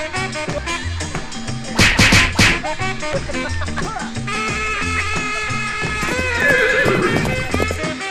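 Horse whinnies loudly in a burst around the middle, set against a busy, steady background of mixed sound that continues throughout, recorded outdoors in Zambales.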